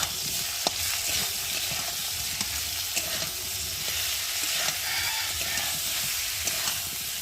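Spice paste of turmeric, chilli powder, ginger and cumin paste fries in a pan while being stirred, a constant close sizzle with light scraping strokes and occasional ticks, no voices.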